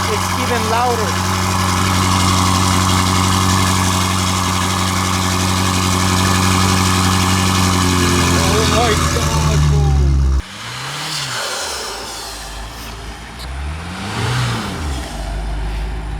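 A BMW M5 Competition fitted with catless downpipes and front-mount intakes runs at a cold start with a loud, steady engine drone, then gives a couple of sweeping rev blips that rise and fall, heard up close.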